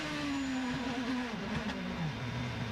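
IndyCar race cars at the start of the 2011 São Paulo Indy 300 street race, a loud continuous engine roar with pitch sliding downward and shifting as cars accelerate and pass, no talk.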